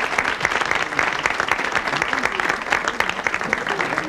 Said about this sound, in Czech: Tleskáte na přivítanou